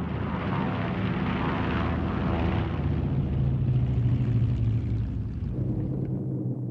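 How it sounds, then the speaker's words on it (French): A de Havilland Heron, a small twelve-passenger propeller liaison airplane, drones past with a steady, rumbling engine roar that holds loud and close throughout, then slowly fades. "Le de Havilland Heron, par exemple, un petit appareil de liaison qui peut embarquer 12 passagers."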